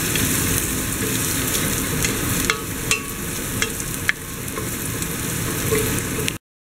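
Ginger, garlic and onion sautéing in a hot pan, a steady close sizzle and crackle with a few sharper pops and stirring scrapes, no voices over it, cutting off abruptly at the end.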